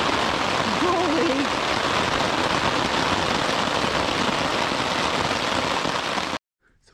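Steady heavy rain falls on a tarp at a canoe campsite in Woodland Caribou Provincial Park, a dense loud patter that is constant for over six seconds, with a brief voice underneath, then cuts off abruptly.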